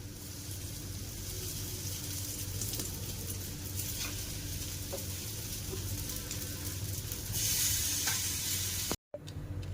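Bread frying in a pan, a steady close sizzle running throughout with a brief dropout near the end, no voices.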